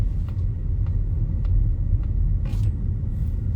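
A car drives slowly through a residential neighborhood in Waxhaw, North Carolina, producing a steady low road rumble and tire noise from inside the cabin, with faint ticking and a brief rise in hiss.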